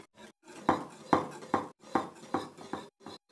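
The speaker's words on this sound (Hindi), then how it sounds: "साइडों से ऐसे चम्मच से उतारते रहें इसको" A spoon scrapes around the sides of a pan of thickening homemade orange jelly, giving about seven distinct metallic scrapes in a steady rhythm, close and fairly clear with short quiet gaps between strokes.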